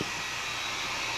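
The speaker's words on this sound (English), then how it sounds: "she knows what to do with the hair dryer" A hair dryer blows in a steady, loud, broadband whoosh at a Halloween show, running continuously without pause and with no one talking.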